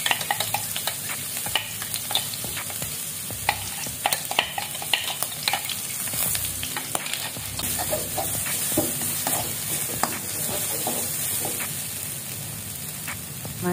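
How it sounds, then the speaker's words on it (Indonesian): Blended spice paste sautés in a pan while being stirred, giving a continuous hissing sizzle with frequent scraping and clinking of the utensil against the pan, close and steady, no talk. "Kemudian kita tumis bumbu yang sudah kita blender tadi ya."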